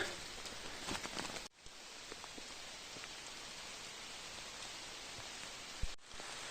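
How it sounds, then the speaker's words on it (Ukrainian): Rain pours down steadily through a foggy Carpathian forest, a dense, even hiss of drops on leaves and ground that holds at a constant level, faint and distant-sounding, with no voices. "дощ всипав"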